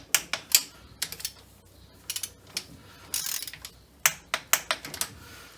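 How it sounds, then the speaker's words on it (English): A torque wrench ratchets and clicks while tightening bolts on a Ford Mustang Mach 1, giving quick clusters of sharp close clicks with short pauses between pulls. "Torque these down to 20 foot-pounds"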